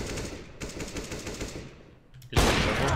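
Rapid automatic gunfire in a Counter-Strike match, a fast repeating burst of close shots that thins out and pauses, then a louder sudden blast near the end, with no voices.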